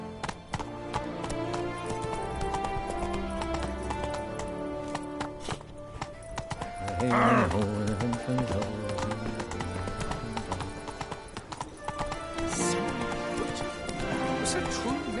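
Rhythmic clip-clop of the horse Roach galloping in The Witcher 3, hoofbeats running steadily under game music and voices, with a brief whinny-like burst in the middle.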